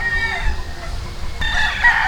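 A game fowl rooster on a breeding farm crows loudly and close by, one drawn-out crow with clucking and other farm ambience behind it.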